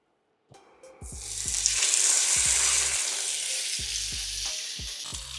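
British Wagyu steak sears loudly in a hot pan, a steady broad sizzle that swells after a quiet start and holds, with a few low thumps and knocks of handling throughout.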